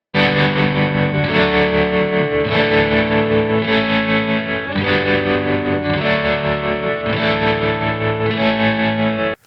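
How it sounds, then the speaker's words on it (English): Big down-strummed electric guitar chords from a song's chorus, loud and distorted with a chorus-like shimmer. Each sustained chord rings into the next in a steady, driving rhythm, with no voices. "in our chorus, we've got some big down strums"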